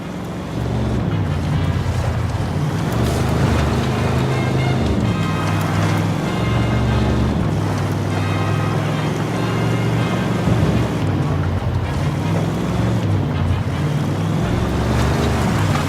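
Truck driving in Ghost Recon Wildlands, a steady low engine drone with shifting pitch, loud and continuous throughout with no talk.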